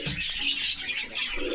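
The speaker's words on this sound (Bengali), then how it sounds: "লাল কালার লাহোরি কবুতর সেদার কাটে দেওয়া পিওর লাহোরি" A red Lahori pigeon at a pigeon market coos and chirps softly in a short burst, with faint background hubbub around it.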